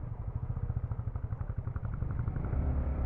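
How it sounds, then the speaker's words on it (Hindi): A motorcycle ridden over snow, its engine pulsing in a rapid chugging rhythm with some clatter, fairly quiet and rising slightly toward the end, with no voices. "बाइक तो पूरी तरह फिसल रही है भाई बर्फों पे"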